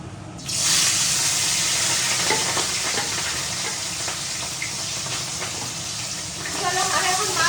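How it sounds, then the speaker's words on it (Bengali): Rui fish frying in a hot pan at home, a loud continuous sizzle and spatter starting abruptly and holding steady close by, with faint voices in the background. "চলো আমি এখন মাছ ভাজা স্টার্ট করলাম"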